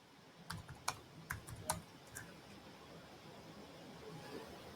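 Quick clicks of a computer keyboard as a zip code is typed, a brief burst of faint keystrokes followed by quiet room noise.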